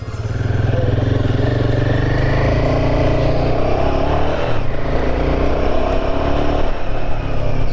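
A motorbike rides off at the start of a long bike trip, its engine droning steadily and loudly close by, with the pitch rising slightly as it pulls away.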